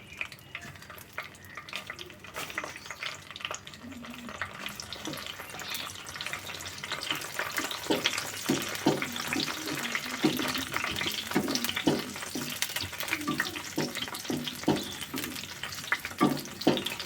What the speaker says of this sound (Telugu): ఇప్పుడు ఎండుమిరపకాయలు వేసి మాడినకుండా దూరంగా వచ్చేదాకా వేసుకుందాం.